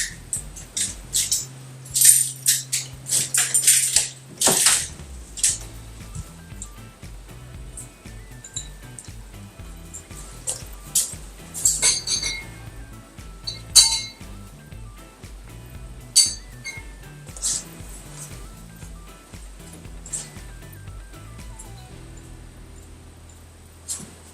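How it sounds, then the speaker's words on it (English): A glass being emptied out after beer tasting, with repeated sharp clinks and light taps of glass, irregular and close, scattered through a long quiet stretch without talk. "I empty the crap out of this glass"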